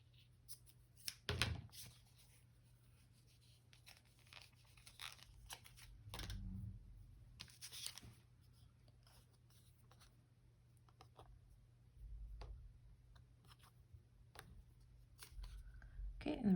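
Scissors snipping paper for a paper bag junk journal, a few short crisp cuts spread through a quiet stretch with occasional rustling and handling noises, close and fairly soft.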